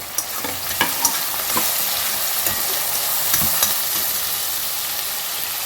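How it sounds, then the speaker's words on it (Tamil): Tomatoes and coriander frying for a pepper gravy, with a steady, loud sizzle and a string of spatula scrapes and light clacks as they are stirred in the pan. "தக்காளியும் போட்டுடலாங்க இதில் கொஞ்சம் கொத்தமல்லி போடலாங்க"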